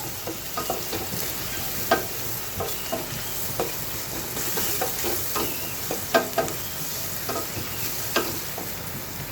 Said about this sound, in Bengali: এখানে আমি ইলিশ মাছটা ভেজে নিচ্ছি না একদম সরাসরি কাঁচা মাছটাই রান্না করছি